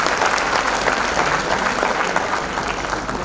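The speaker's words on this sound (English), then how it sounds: "Please give a big round of applause for these outstanding performances." A school annual day audience applauding student performances, a loud, continuous roar of many hands clapping together in a large hall, with no voices over it.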